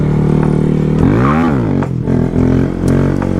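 A Honda Grom small motorcycle revs hard as it pulls up into a wheelie, the engine pitch sweeping up and then dropping as it comes back down, loud and close on a bumpy road.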